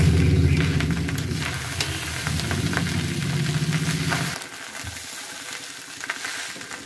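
Rice with mushroom, black pepper, salt and biryani masala stir-fried in a home kitchen pan, a loud steady sizzle with scraping stirs that drops to a quieter, softer frying hiss partway through.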